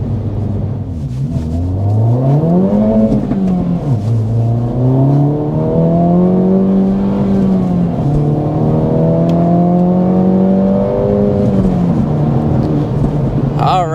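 A 2024 Acura Integra Type S pulling hard on a flat road, engine note climbing through rising revs with a gear change near three seconds, then a long sustained pull, loud from inside the cabin with a voice over it.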